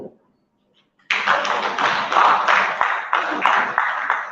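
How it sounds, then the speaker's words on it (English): An audience at a congress in Lagos breaks into a round of clapping that starts abruptly and continues steadily and strongly, close and dense. "The round of applause for her."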